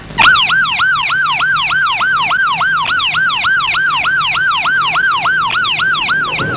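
A loud, close ambulance siren wails in a steady rapid up-and-down cycle, repeating continuously throughout.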